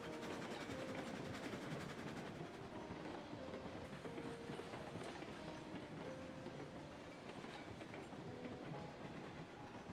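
A train runs along the rails on a first excursion of 2025, with a steady, loud rumble and clickety-clack of wheels that continues throughout, accompanied by faint tonal squeals.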